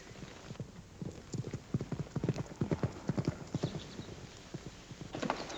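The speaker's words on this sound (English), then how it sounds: "I'm just waiting for Miss Agnes to come back with my horse" A horse's hooves clip-clop in a steady, close, fairly quiet rhythm as the horse arrives on a Western ranch, with a brief whinny-like sound in the mix.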